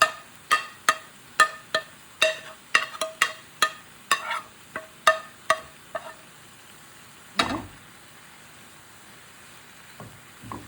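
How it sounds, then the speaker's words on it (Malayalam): A coconut and spice mixture is stirred in a pan for prawn thoran, with about a dozen brisk, evenly spaced scraping strokes. A single louder knock follows, then near quiet. "എല്ലാം ഇട്ടൊന്ന് ഇളക്കി കൊടുക്കുക."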